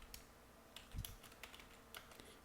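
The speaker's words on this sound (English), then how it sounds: "I'll just type welcome" Soft, quick keystrokes on a computer keyboard, a short burst of separate clicks with one heavier tap, quiet and close, with no voices.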